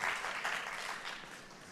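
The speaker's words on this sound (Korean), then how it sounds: "크게 박수 한번 할까요?" A church congregation applauding during a Sunday worship service in Kuala Lumpur, Malaysia, a fairly soft, steady wash of many hands clapping that gently fades over under two seconds.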